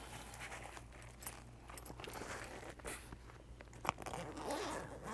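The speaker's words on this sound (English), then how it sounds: "By the way, the zippers are smooth." A zipper slides open on a Vic Firth drum stick bag, with short rasping pulls and light fabric rustles and handling noises close to the microphone.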